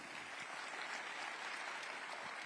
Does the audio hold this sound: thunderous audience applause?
yes